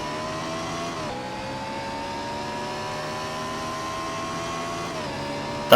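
A race truck in a racing video game accelerating at full throttle, a steady high engine drone that shifts pitch with gear changes, loud and continuous with no talk.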